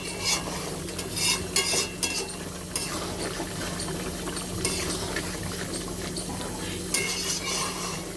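Chicken curry being stirred in a pot as the meat cooks down in its own released juices, giving repeated scraping and clinking strokes over a steady low hum, with faint sizzling underneath throughout.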